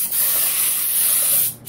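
A paint spray gun with its inner filter removed hisses steadily and loudly as it sprays primer onto the black parts of a Subaru Impreza, in one continuous blast that tapers off at the end.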